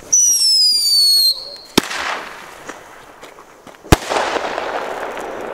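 Small fireworks set off outdoors on New Year's: a whistling rocket launch followed by two sharp bangs and crackling bursts, fairly close, with faint background noise between.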